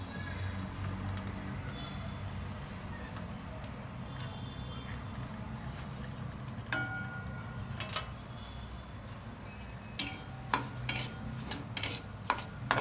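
Semolina roasting in hot ghee for jaggery lapsi, a spoon scraping and stirring in the pan with soft sizzling beneath, then a burst of sharper metallic clinks toward the end.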